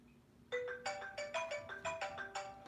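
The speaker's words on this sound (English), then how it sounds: "It's going to ring now." A phone ringtone plays through a connected speaker system, a bright repeating melodic pattern of tones that starts abruptly and continues steadily at close range with no talk over it.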